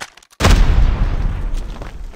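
A video-game grenade detonates close and loud after a brief silence, a sudden heavy boom followed by a long rumbling decay.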